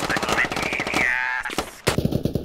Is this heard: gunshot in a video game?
yes